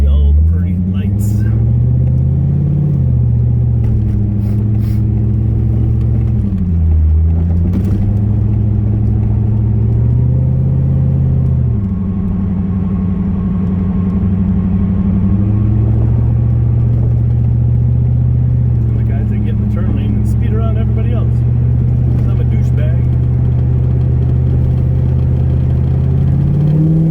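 A car drives at night, with a loud, continuous low engine and road rumble inside the cabin and small shifts in pitch as it moves, while people talk over it.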